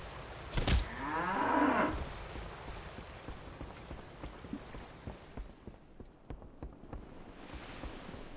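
A cow in the World of Warcraft video game lets out one close, drawn-out moo. Soft steady patter like rain and scattered small ticks follow in the background, with no talking.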